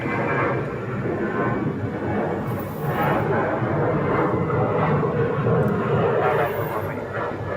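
Airliner on approach to land at Phoenix Sky Harbor Airport, a steady loud engine roar that holds throughout, with faint radio-like voices mixed in.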